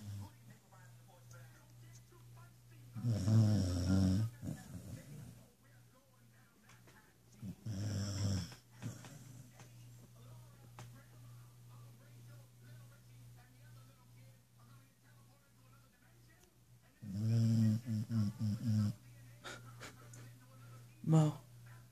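A dog snores loudly with deep, man-like rasping breaths in three strong bursts and fainter snores between, close to the microphone over a steady low hum.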